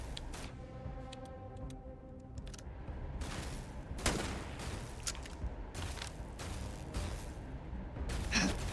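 Gunfire in the video game Starfield: scattered, sharp shots and short bursts crack out one after another over a low, steady game background, with no talking.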